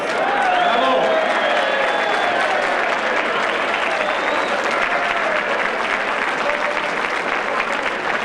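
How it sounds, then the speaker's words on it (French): A large audience of members applauds and cheers at the close of an evening show, with dense, steady clapping filling the whole stretch and scattered voices mixed in. "À vous tous, nos membres, à nous tous, applaudissons-nous."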